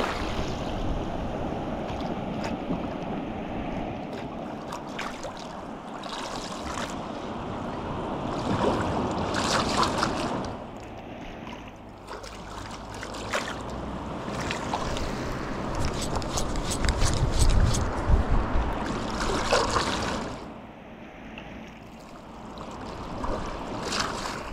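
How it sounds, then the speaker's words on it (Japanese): Tide and waves washing at night during an eging squid-fishing trip, a steady broadband wash rising and falling in slow surges over about twenty-five seconds, heard alone without talk. "なんだ今の潮の音か。"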